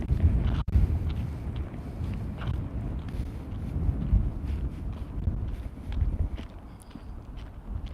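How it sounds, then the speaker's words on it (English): Wind on a trail rumbles steadily against the microphone, moderately loud and uneven, with soft crunching sounds like footsteps scattered underneath. "It is a little bit windy."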